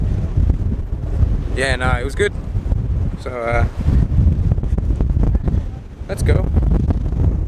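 Wind blows outdoors, a constant low buffeting roar rumbling against the microphone throughout, with voices speaking briefly over it in a few short bursts.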